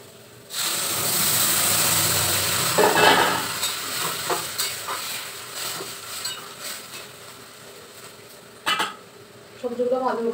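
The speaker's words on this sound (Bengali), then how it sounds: "সবজিগুলো ভালো করে ভেজে নিয়ে জল দিয়ে দিলাম" Vegetables fry in a pan with a loud, steady sizzle up close, while a utensil stirs and scrapes with intermittent clinks against the metal.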